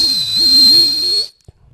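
One loud, shrill whistle blast held for about a second, then cut off, with a faint click after.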